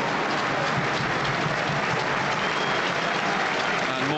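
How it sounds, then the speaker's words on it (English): Football fans at a Tranmere Rovers versus Newcastle United Carabao Cup match applaud in tribute, a dense, sustained wash of crowd clapping that stays steady and loud throughout with no break. "And more fans joining in now with the applause."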